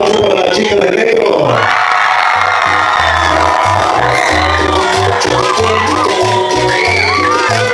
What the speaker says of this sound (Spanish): Aplauso para la chica de negro.